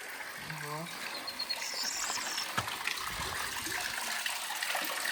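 A steady stream of water trickles and splashes continuously from a hose outdoors, with a short spoken remark near the start.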